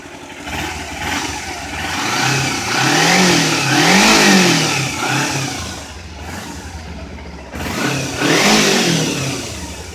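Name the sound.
2011 Kawasaki Ninja 250R motorcycle engine revving to 6,000 RPM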